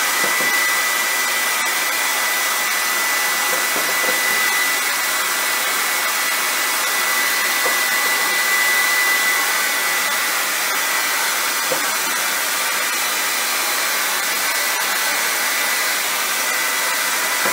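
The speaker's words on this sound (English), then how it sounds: "we're going to take our hairdryer and we're going to point it up. Then we're going to turn it on high power" A handheld hair dryer runs on its high setting, a loud, steady, close-up whooshing hiss with a faint whine that holds constant throughout, no voices.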